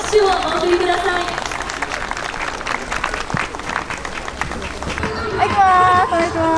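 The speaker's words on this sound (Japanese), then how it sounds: "どうぞ今一度大きな拍手をお送りください。" A crowd at a Japanese women's football club event gives a big round of applause, steady clapping with some chatter mixed in, and voices speak over it at the start and again as it winds down.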